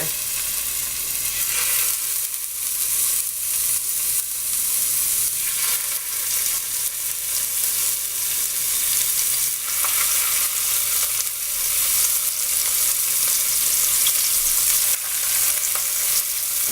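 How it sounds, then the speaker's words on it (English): Large scallops sear in a hot pan, giving a steady, loud sizzle that holds for the whole stretch with no talking over it. "So, here we go. You really want a good sear."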